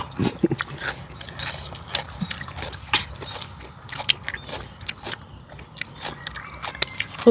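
Crunchy fried insects being chewed up close, a steady series of crisp bites and crackles with no talking.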